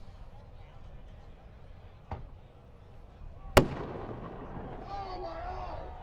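Fireworks going off at an outdoor off-road racing event, a faint pop followed by a sharp, loud bang and a crackling tail, with a person's brief exclamation.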